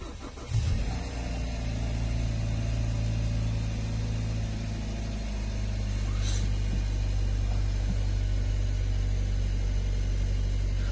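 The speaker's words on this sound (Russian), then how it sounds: "Двигатель работает достаточно ровно сейчас." A Hyundai Sonata 2.4 engine with a suspected knock cranks and catches, then settles into a steady, fairly smooth low idle that runs on without voices.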